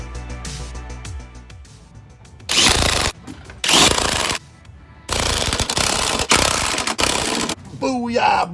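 Impact wrench driving trailing arm mounting nuts on a 1999 Subaru Forester, several loud close bursts of rapid hammering separated by brief pauses, with faint mechanical sounds between them.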